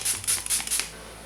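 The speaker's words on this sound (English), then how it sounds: "I'm going to go ahead and spray my face with the e.l.f." Several short hissing spritzes of e.l.f. Illuminated Setting Spray misted onto a face, four quick bursts in a row, close and fairly soft, with no talking.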